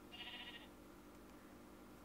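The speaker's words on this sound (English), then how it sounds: "Right, sheep." A single short sheep bleat in the Minecraft video game, fairly clear against a low steady background hum, then quiet.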